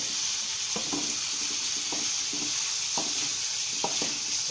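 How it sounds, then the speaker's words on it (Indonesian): Pork frying with garlic and shallots while being stirred, a steady sizzle with scattered scraping clinks of the spatula against the pan. "Aduk bersamaan dengan bumbu-bumbu tadi, bawang putih, bawang merah,"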